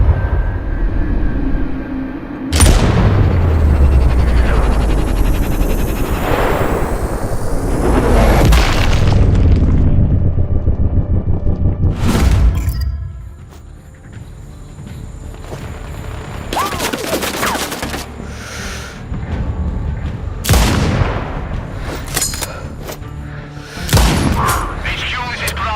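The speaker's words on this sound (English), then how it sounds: "I heard an explosion." Heavy booming explosions and bursts of gunfire in the video game Sniper Ghost Warrior Contracts 2, several loud blasts with rumbling tails spread across a noisy combat scene.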